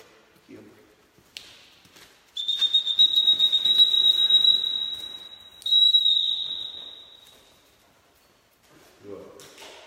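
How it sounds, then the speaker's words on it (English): A dog-training whistle sounds for a recall in a long, loud, steady tone that breaks briefly, resumes, and then fades, with quiet handling noises around it. "we'll use the whistle for it"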